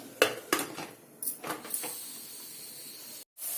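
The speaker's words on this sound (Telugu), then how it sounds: "టూ మినిట్స్ నేను మూత పెడతాను" A lid goes onto a cooking pot of mutton with sorrel leaves on a stove, giving a few close metallic clinks and scrapes followed by a quiet steady hiss.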